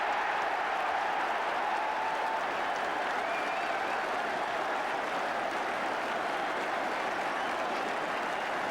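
A football crowd at Highbury stadium applauds after a goal, a broad, steady roar of clapping heard from a distance at moderate level, continuous with no break.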